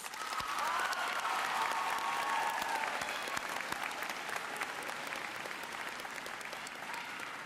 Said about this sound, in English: Graduates, please take this moment and give your parents a round of applause.